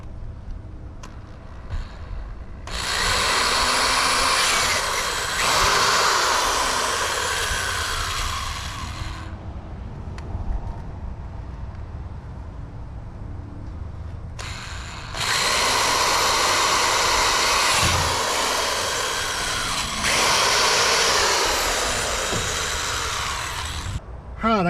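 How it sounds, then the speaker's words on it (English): A handheld power drill bores two holes into a kayak power box, two long whining bursts of several seconds each separated by a quiet pause, close and loud. "We're going to drill our 2 holes."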